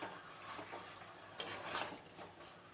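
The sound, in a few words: stirring chicken curry masala in a pan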